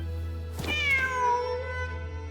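A cat in a video game lets out a single clear, drawn-out meow that rises then falls, sitting alone over a low steady background hum.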